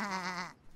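A single sheep bleats in a children's counting cartoon, a wavering, vibrato bleat held for about half a second, close and clear before trailing off into quiet.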